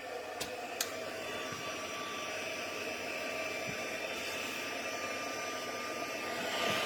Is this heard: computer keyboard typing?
no